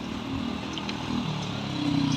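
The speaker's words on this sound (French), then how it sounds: "Attends, moto." A motorcycle moves through city traffic at night in Brussels. A medium engine hums at moderate distance as it passes, with a steady low rumble and no talking.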